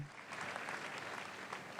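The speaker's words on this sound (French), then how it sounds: "Applaudissons pour Jésus-Christ." A church congregation applauds steadily and loudly, a dense wash of clapping from many hands filling the room without a break.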